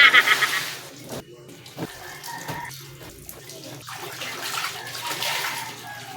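Laundry being rinsed by hand in a single basin of water, with splashing and sloshing bursts, loudest at the start, then steadier swirling water running throughout at moderate level, close by.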